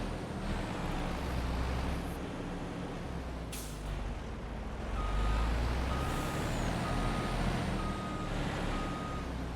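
A Mercedes-Benz hook lift truck in Farming Simulator 25 sounds a steady series of reversing beeps over its low, rumbling engine, with a short air-brake hiss partway through.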